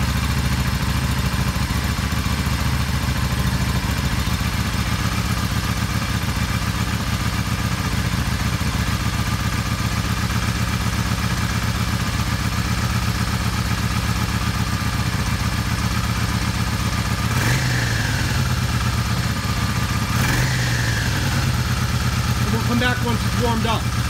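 A Yamaha Star 650 motorcycle engine idles steadily on full choke while warming up after a carburetor repair, a loud continuous close-up drone with a couple of brief revs or surges near the end.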